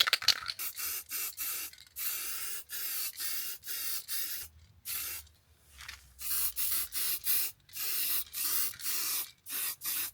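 Rapid hissing bursts from an aerosol paint can spraying a Mercedes W124, a run of short and longer sprays with brief pauses between, close and fairly loud.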